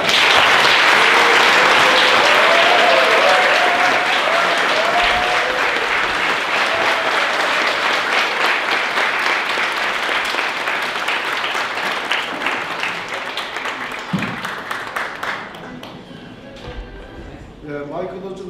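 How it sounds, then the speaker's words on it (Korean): Loud, sustained applause from a large lecture audience welcoming a speaker, slowly thinning out and fading toward the end, with a few scattered claps lingering. "힘찬 박수로 맞이하겠습니다"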